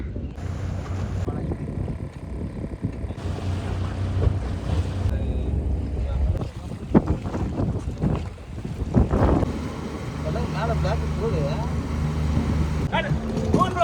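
A motor boat out on the sea at Ennore for early-morning fishing drones steadily while heavy wind buffets the microphone, with engine rumble and rushing air continuing throughout.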